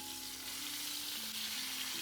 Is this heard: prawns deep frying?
yes